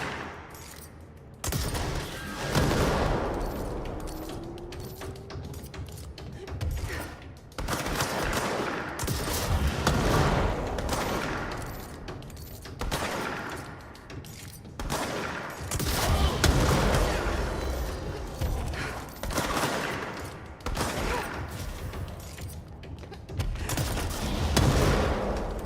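Rapid bursts of gunfire fill a firefight in the video game Control, repeated automatic volleys and booms coming in waves throughout, loud and close with almost no talk.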